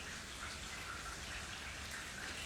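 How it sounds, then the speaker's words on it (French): Steady rain falling with water running nearby, a dense continuous hiss of drops and flow at an even level throughout. "Steph, écoutez l'eau qui coule derrière moi. Ouais, il est en train de pleuvoir"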